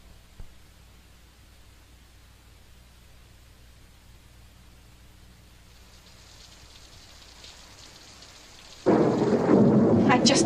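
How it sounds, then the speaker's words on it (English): Heavy rain bursts in suddenly near the end, loud and close, after a long stretch of quiet low rumble from a storm in Florida. "How can it rain in Florida in the middle of the season?"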